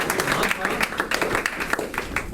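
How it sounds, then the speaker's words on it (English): An audience at a book review talk gives a warm round of applause, dense steady clapping filling the room with some voices mixed in. "give a nice warm round of applause for it"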